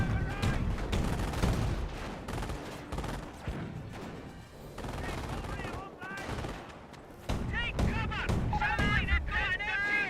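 Company of Heroes infantry squads trade steady rifle and machine-gun fire in dense, continuous bursts, with a voice talking over the battle noise throughout.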